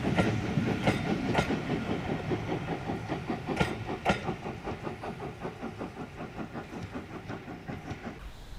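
A steam train rolls past close by with a steady rhythmic clickety-clack of wheels over rail joints, loud and continuous, slowly easing off at the end.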